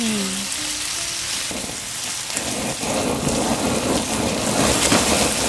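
Spicy pork stir-fries on an iron griddle at a lakeside campsite, a dense loud sizzle like rain crackling throughout while a spoon scrapes and stirs the meat, close with no talking.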